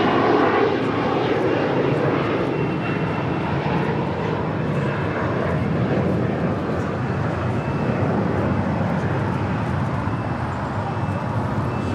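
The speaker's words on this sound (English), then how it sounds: "The 787-9 Dreamliner is coming in from Tokyo Narita." ANA Boeing 787-9 Dreamliner arriving at LAX from Tokyo Narita, its jet engines a loud, continuous roar that sustains nearly evenly over the whole stretch, close by and unaccompanied by talk.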